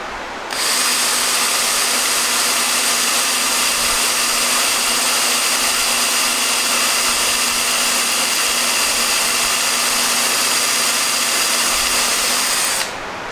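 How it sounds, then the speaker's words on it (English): A drill bit bores into metal on a rusty Monarch 10EE lathe under restoration, a loud, steady whirring grind that holds unbroken for about twelve seconds and then stops, with no talk. "I'm going to step that drill size up one more"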